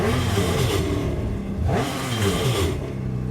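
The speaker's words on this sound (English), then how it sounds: "At this point in the process, you can rev that motor lightly 3 times." Yamaha jet boat motor flushed at the dock and revved lightly, rising and falling engine surges with a rumbling idle between them, close and loud with no voices.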